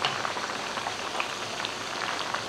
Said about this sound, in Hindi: गरम गरम ऑयल हम ऊपर डालेंगे